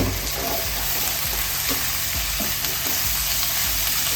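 Tomatoes dropped into an eggplant curry fry in a hot pan, giving a loud, continuous sizzle with occasional stirring knocks and scrapes close by.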